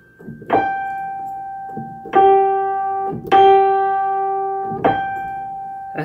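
A piano sounds a triple octave during tuning, repeated four times as loud, ringing struck notes that hold and slowly fade. Each strike carries steady sustained tones with no voice over them.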